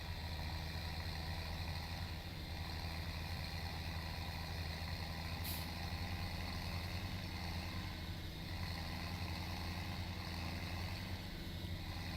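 A tractor engine in the farming game Farming Simulator 17 idles as a steady, unchanging low rumble with a constant hum, fairly quiet and uninterrupted, with no talking.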